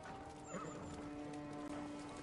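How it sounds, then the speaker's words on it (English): A horse whinnies briefly amid quick galloping hoofbeats in the video game Ghost of Tsushima, faint and mixed with a steady background tone, over about two seconds. "Here's me escaping with my horse."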